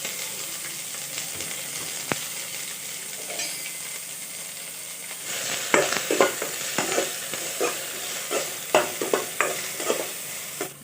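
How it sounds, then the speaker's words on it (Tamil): Onions sauté in hot oil with cinnamon sticks and fennel seeds, a steady close sizzle broken by frequent stirring scrapes and taps that grow busier midway, with no voices. "இப்போ வெங்காயம் நல்லா வதங்கிருச்சு"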